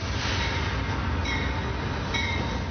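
A train rolls steadily along the rails with a loud, continuous rumble, faint squeals rising briefly over the constant roar.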